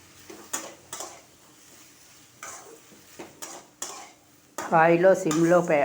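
Tomato and onion frying with salt in a pan for chutney: a spoon scrapes and clinks against the pan in irregular strokes over a soft sizzle, before a voice speaks over it at the end.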